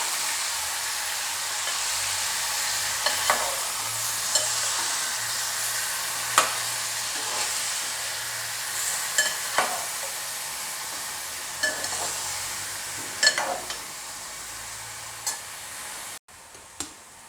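Bitter gourd fries in hot oil while being stirred, giving a continuous bright sizzle broken by occasional sharp scrapes and clacks of the spoon against the pan, close and steady for the whole stretch.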